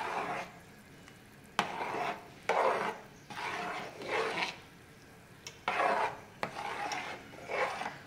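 A thick mixture of sago and potato being stirred in a pot, giving repeated scraping, squelching strokes in an uneven rhythm, close and fairly soft, with no voices.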